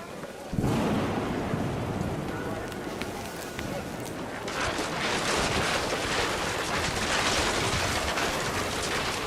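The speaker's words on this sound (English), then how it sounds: "The rain came down in buckets then" Heavy rain pours down with rumbling thunder in the video game What Remains of Edith Finch, a dense, loud, steady downpour that grows fuller partway through, with a voice speaking over it.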